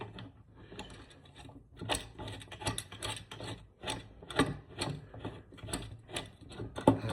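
A nut is threaded onto a bolt over a washer while fitting a Kraus Denali deck to a 2025 Harley-Davidson, giving close, irregular metallic clicks and scrapes without talking.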